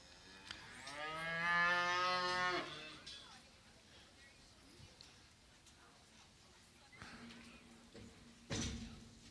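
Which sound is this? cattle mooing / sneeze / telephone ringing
cattle mooing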